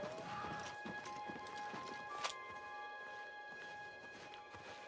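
A chestnut horse in the video game Oblivion Remastered clip-clops along, its hoofbeats quiet and uneven beneath sustained tonal game music.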